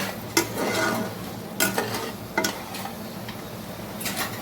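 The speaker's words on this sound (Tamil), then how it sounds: "பாருங்கள் அடிப்பிடிக்காமல் இப்படி கிண்டி விடணுங்க." Beetroot halwa stirred in a pan, a few sharp scrapes of the spoon against the pan over a soft steady sizzle, close and alone with no talking.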